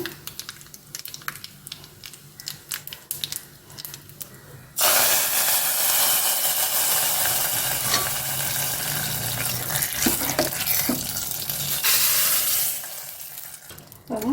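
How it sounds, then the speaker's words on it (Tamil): Cut dried red chillies and a chunk of asafoetida dropped into hot oil as a tempering for dal, bursting into a loud, steady sizzle and hiss after a few seconds of quieter kitchen clatter, then easing off near the end. "ரெண்டு காஞ்ச மிளகா கட் பண்ணி போட்டுக்கிறேன் நல்லா பொரியட்டும்"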